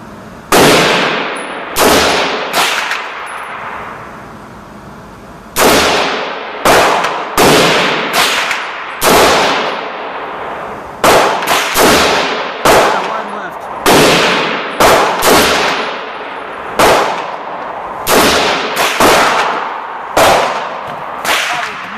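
A gun is fired at a target 75 yards away on a shooting range, more than a dozen loud, sharp cracks with ringing decay, spaced a second or two apart, alone and close.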